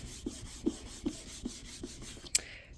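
A sticky stencil is rubbed down onto a wooden board in a series of soft, rhythmic scraping strokes, about six evenly spaced, close and fairly quiet, ending with a sharper crisp sound.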